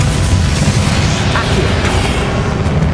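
Bombarda explosion spell going off in the Hogwarts Legacy video game, a dense, loud booming blast that rumbles steadily through the whole stretch with no clear pauses.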